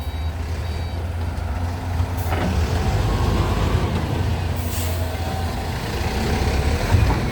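Excavator with a six-cylinder direct-injection engine running while dredging a reservoir: a steady, deep engine drone close by, with faint high beeping tones early on and brief mechanical clanks.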